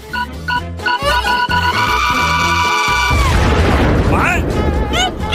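A cartoon candy bomb going off, with a sudden loud burst and crash that rumbles on for a few seconds, preceded by bright bouncy tones and heard close and loud.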